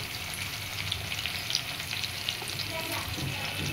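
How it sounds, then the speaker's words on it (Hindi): Chopped medium onion frying in hot oil for a palak soya moong dal, a steady close sizzle with faint crackles and pops throughout, no voices. "तो अभी हमने इस ऑयल में थोड़ा सा प्याज डाला है, एक छोटा मीडियम साइज का प्याज है ये। तो इसे अच्छे से हम कुक होने देंगे"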